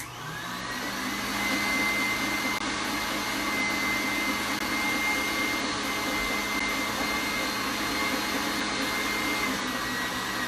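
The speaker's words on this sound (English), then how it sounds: "I'm going to whisk this for about 10 seconds." An electric whisk beats macaron batter in a steady, continuous motor whir that holds at an even level throughout, with no one talking.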